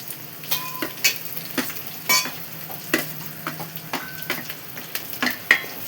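Onions fry and sizzle in a pan for stuffed brinjal, with a spoon stirring and scraping in repeated sharp strokes over a steady close crackle, alone without talk.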